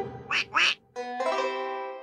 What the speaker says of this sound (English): when our blue duck goes quack, quack, our black duck quickly quack, quacks back